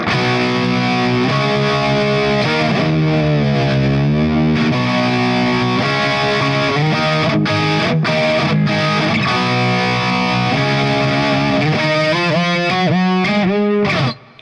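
Heavily distorted electric guitar plays a repeating octave lick with a band behind it, steady and loud, ending in a quick cutoff.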